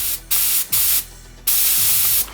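Compressed air from an oil-free compressor blasts through a spray gun in three short bursts, a loud close hiss that starts and stops abruptly with quieter gaps between.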